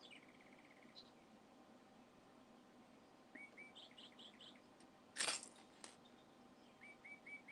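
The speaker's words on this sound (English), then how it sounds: "We'll just listen to Chirpy just for a minute." Small bird chirps and tweets come in short bursts over a steady fan-like hum, with a sharper, louder chirp near the middle.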